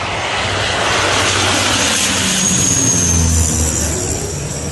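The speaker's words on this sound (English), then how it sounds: "This is what a firefighting plane looks like in action." A firefighting airplane flies low beside a highway, its loud engine roar steady and continuous throughout with a faint whine riding above, close and alone without talk.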